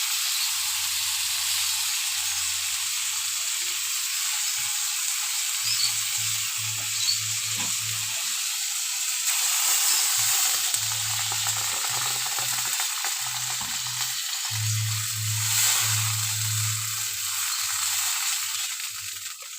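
Ground cumin and spices sizzle in a hot pan as water is poured in, a loud continuous hissing spit close up with low bubbling and faint stirring underneath, rising and easing over time; no voices.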